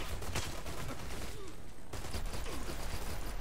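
Airstrike explosions pound the Chapel map in the shooter Dirty Bomb, a dense rapid barrage of blasts and crackling impacts that stays loud and continuous throughout, with a brief lull partway.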